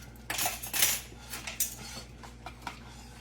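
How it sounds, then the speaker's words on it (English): Metal cutlery clinks and rattles as someone rummages for a teaspoon while making peanut brittle, with a few quick bright jingles early and softer scattered taps afterwards, close and fairly quiet. "let me find my teaspoon here"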